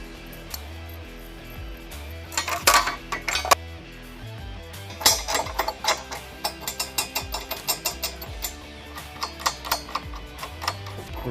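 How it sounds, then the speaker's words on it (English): Metal trailer hitch hardware for a 2011-2026 Dodge Durango being fitted by hand: bolt, custom spacer, nut and conical tooth washer clink and tick in a run of small, close metallic taps, sparse at first and then a steady rhythmic series. "You can now install the provided hardware: bolt, custom spacer, a nut, and a conical tooth washer"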